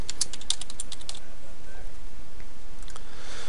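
Quick bursts of clicking on a computer keyboard, crisp and close, several rapid keystrokes in the first second, then quieter scattered taps, alone without talk.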